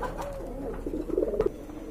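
A pair of white Danish pigeons gives a short run of soft, low coos, close by and alone.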